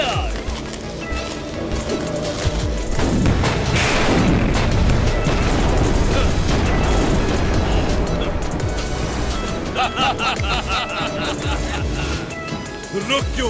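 Cartoon war-scene gunfire and artillery roar on without pause, with heavy rumbling booms mixed with rapid crackling bursts that sharpen into quick repeated shots near the end, and voices heard among the din.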